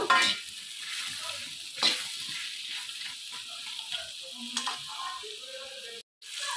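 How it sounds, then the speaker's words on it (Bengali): Pointed gourd (potol) pieces with salt and turmeric fry in oil in a pan, a steady close sizzle with a few scraping stirs, alone with no talk. "হলুদ দিয়ে দিলাম দিয়ে ভালো করে পটলগুলোকে লাল লাল করে ভেজে নেবো"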